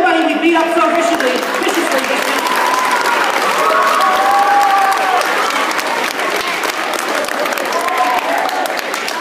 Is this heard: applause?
yes